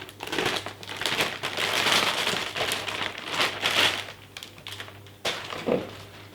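A plastic package holding 3D printer cartridges being cut and pulled open, giving steady crinkling and crackling of plastic, close and fairly quiet, with no talk.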